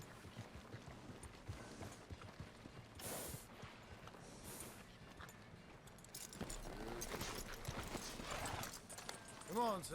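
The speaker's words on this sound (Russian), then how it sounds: "Давайте лошадок пристегнем сначала." Horse hooves clip-clopping steadily in Red Dead Redemption 2 during a ride toward Valentine, alongside game ambience, with speech heard over the sound.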